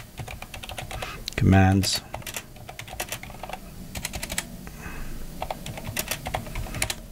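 Commands typed on a computer keyboard: irregular clusters of crisp keystroke clicks through the clip, with a voice speaking briefly near the start.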